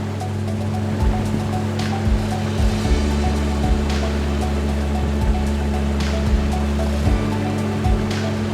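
A boat travels along the tree-lined Kopu river in Kampar, with a steady low engine drone and continuous water wash and splashing against the hull, close and unbroken throughout.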